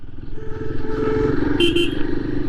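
A Royal Enfield Himalayan motorcycle engine rumbles steadily up close, with a couple of brief horn-like tones over the running engine.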